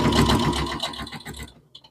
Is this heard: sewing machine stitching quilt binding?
yes